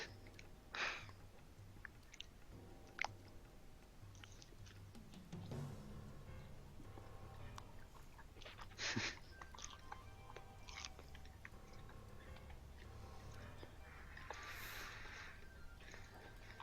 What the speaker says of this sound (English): You're chewing on something, I can hear it. Is it bread?